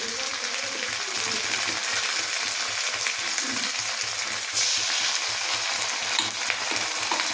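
Ginger-garlic paste sizzles in frying spices in a pan for prawn malaikari, a continuous loud crackling fry with occasional stirring scrapes and no talking.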